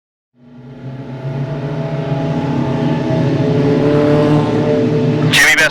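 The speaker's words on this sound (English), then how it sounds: "Green flag is out, and we're underway with the mini stocks." Mini stock race cars at Desoto Speedway roar away under green flag, a loud, rising pack of engines revving up together and holding a steady drone, with a brief sharp noise at the end.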